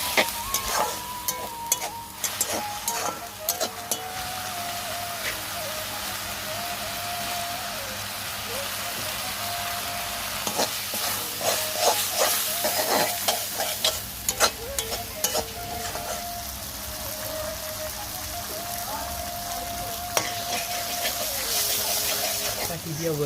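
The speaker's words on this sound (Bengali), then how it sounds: "কাঁচা মশলাটা একটু ভালো করে ভেজে দিয়ে দিচ্ছি" A pan sizzles and spatters continuously as a raw ginger spice paste fries while a spoon scrapes and stirs in irregular bursts, with faint voices in the background.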